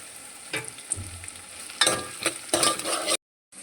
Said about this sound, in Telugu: ఇవి ఇప్పుడు కొంచెం ఫ్రై అయిన తర్వాత నేను ఇప్పుడు దీంట్లో కొత్తిమీర వేసుకుంటున్నాను.